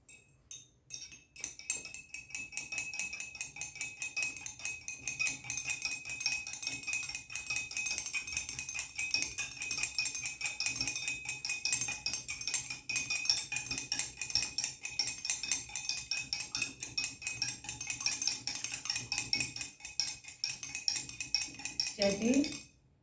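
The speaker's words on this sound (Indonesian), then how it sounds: "Kemudian kita aduk." A spoon stirring potassium permanganate solution in a glass makes rapid continuous clinking, a steady stream of bright ringing taps against the glass that carries on for over twenty seconds.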